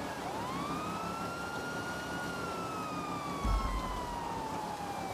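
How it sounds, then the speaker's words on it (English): A police car siren in the GTA NoPixel video game wails in one long smooth rising-and-falling sweep, fairly faint under steady background noise, with a short thump near the end. "Turn the siren off."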